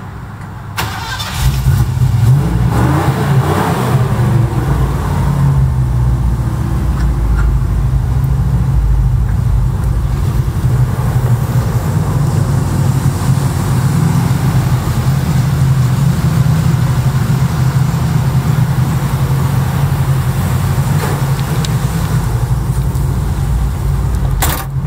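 A 1973 Ford Bronco Ranger's engine cranks and catches, then runs loud and close with revving and a rough, steady idle for over twenty seconds, with no talking.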